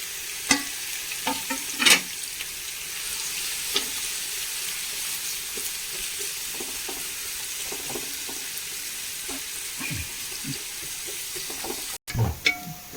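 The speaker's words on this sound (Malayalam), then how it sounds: "നമ്മുടെ സവോള നല്ല ഫ്രൈ ആയി വന്നിട്ടുണ്ട്." Three chopped onions fry in hot oil in a pan for chicken biryani, a steady sizzle broken by scattered stirring scrapes and clinks, with a louder clatter near the end.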